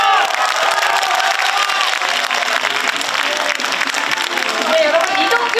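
A large crowd at an outdoor political rally for Democratic Party leader Lee Jae-myung in Jeonbuk, South Korea, applauds and cheers in a dense, continuous burst, with shouts and voices mixed in throughout.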